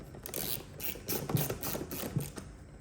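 A hand wrench ratcheting off a couple of bolts on a motorcycle fairing windshield, a faint series of quick clicking ratchet strokes in short bursts, close by with no talk.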